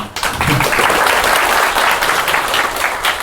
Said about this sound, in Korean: 오늘 얘기를 해주실 마이클 코텔을 박수로 맞아주시면 좋을 것 같습니다